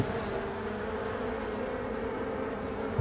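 Honeybees drone from an opened winter beehive, a dense steady buzz close by that holds unbroken for about three seconds with no voices.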